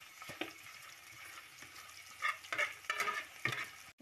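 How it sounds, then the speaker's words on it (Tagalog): Garlic sautéing in a pan, cooked for a string bean and squash dish, gives a soft, steady sizzle broken by spatula scrapes and taps, with louder stirring bursts in the second half. "Ilagay na natin ang ating bawang."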